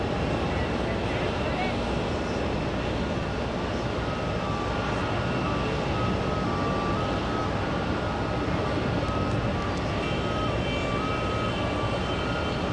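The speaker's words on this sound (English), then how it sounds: "Delta 684, let's take a look. There it is. Heading to Portland. That's an A321neo." A Delta Airbus A321neo at JFK airport gives off a steady broadband jet roar that stays level and fairly distant for the whole stretch, with no clear voices.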